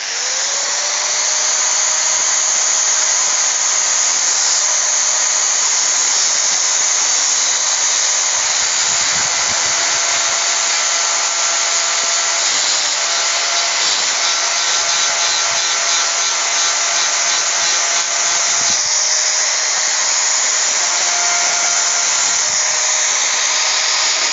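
An angle grinder cuts into the metal of a two-door refrigerator's door to make room for a condenser pipe. The high, steady whine stays loud and close the whole time, with slight shifts in pitch as the disc bites in.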